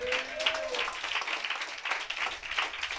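Congregation at a church family blessing gathering clapping loudly, a dense, steady patter of many hands filling the whole stretch, with a brief tonal voice or whistle near the start.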